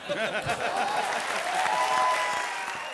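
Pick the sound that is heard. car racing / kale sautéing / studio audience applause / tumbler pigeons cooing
studio audience applause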